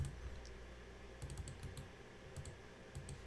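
Clustered bursts of light clicks from typing on a computer keyboard, fairly faint and close, coming in short irregular runs over a low steady background hum.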